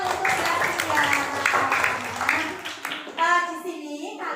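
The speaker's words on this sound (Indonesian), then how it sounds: "Beri tepuk tangan untuk Mbak Tia." Classroom applause as schoolchildren clap together, a short burst of clapping mixed with children's voices and chatter, fading as an adult begins speaking.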